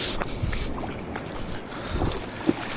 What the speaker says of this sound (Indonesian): Perahu-perahu nelayan pula.